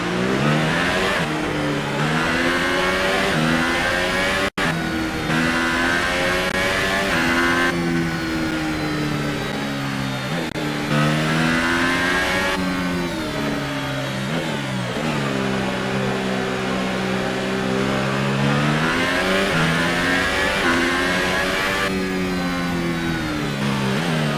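A Renault Formula One car in the F1 2018 racing game, driven at Sakhir, Bahrain, from the cockpit: a loud, continuous engine whine rising and falling through repeated revs and gear changes.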